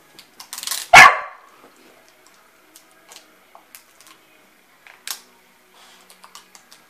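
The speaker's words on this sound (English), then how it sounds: "Is doggy making noise?" A corgi lets out one loud, close bark at packing tape being pulled, surrounded by scattered light clicks and crackles of tape.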